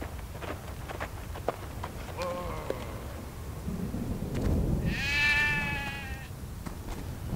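Sheep bleat in the video game Stubbs the Zombie: a shorter bleat, then a louder, drawn-out one later, over rumbling game ambience with scattered thuds.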